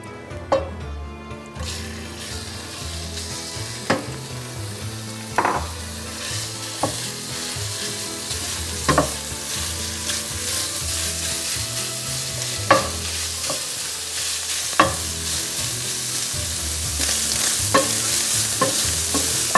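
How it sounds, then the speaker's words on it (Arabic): Meat frying in a pan with a spoonful of ghee and a little oil, a steady close sizzle with intermittent scrapes and clinks of stirring throughout, the frying growing slightly louder toward the end. "حنقلي اللحمة لحتى تتحمر وتستوي عنا"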